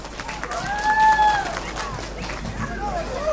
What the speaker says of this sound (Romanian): Haideți să le aplaudăm!